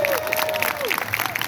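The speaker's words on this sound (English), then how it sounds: "Clap if you agree." A live comedy audience claps together in agreement, a dense, steady patter of many hands. Faint voices and a few thin tonal calls sit over it throughout.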